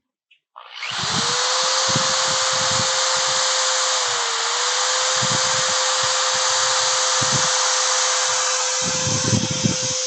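A wood lathe at 400 to 500 RPM gives a steady high-pitched motorized whine that spins up and runs continuously, with intermittent low thumps and scraping underneath, close and loud.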